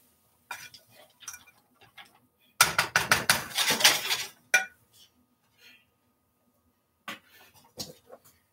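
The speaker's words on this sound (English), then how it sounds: "give this a stir" A spoon stirs a pot of corn chowder, giving a close burst of clinks and scrapes against the pot for about two seconds, with a few scattered knocks before and after in a quiet kitchen.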